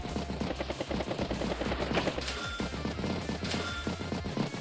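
Rapid gunfire from a tank attack in the Advance Wars video game, a dense run of sharp repeated shots over steady game music, lasting the whole stretch with no pauses.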